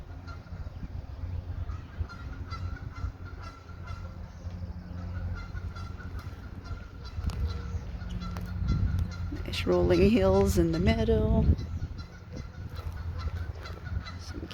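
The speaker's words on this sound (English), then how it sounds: "Some geese talking." Geese honking near a lake in a grassy meadow, a burst of several loud honks in the middle over steady outdoor rumble, with someone speaking briefly beforehand.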